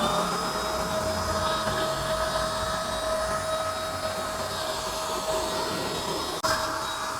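A Hasston electric spray gun sprays paint in a steady, continuous whirring hiss with a thin tonal whine, running evenly throughout with one brief dip near the end.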